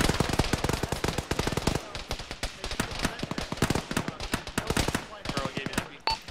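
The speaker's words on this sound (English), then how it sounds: "I'm shooting over you, blue team." Dense automatic gunfire from a ShackTac session of the military game Arma: rapid, overlapping bursts of rifle and machine-gun shots crackle almost continuously, with a short lull before the firing picks up again.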